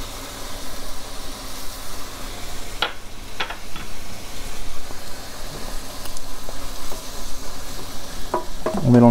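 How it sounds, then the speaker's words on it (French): Orange juice and honey are stirred in a pan for an apple strudel filling: a continuous scraping and swishing at close range with a soft sizzling hiss, scattered clicks, and a sharper clatter near the end. "On mélange bien."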